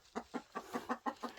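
An Easter Egger hen clucks in a quick, even series of about seven short clucks, fairly faint and close, with no talking.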